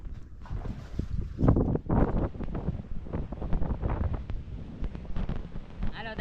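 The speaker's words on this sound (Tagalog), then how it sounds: "Malakas ang hangin." Strong wind buffets a boat on open water, with a steady roaring gust and flapping noise throughout and close rattles and knocks.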